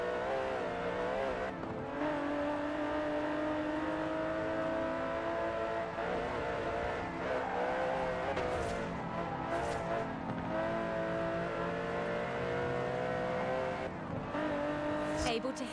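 Aston Martin DB11 with a 5.2-litre twin-turbo V12 in Forza Horizon 4, revving loudly and continuously with rising and falling engine tones and brief tire squeals, while someone talks over it.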